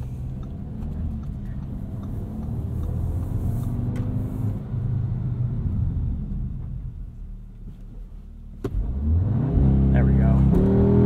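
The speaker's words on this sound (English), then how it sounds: "Can we get another launch-controlled start out of this?" A 2022 Audi S3 with a dual-clutch gearbox making a launch-control start in dynamic mode with traction off: steady engine rumble builds, dips, then surges loudly into hard acceleration near the end, heard from inside the car.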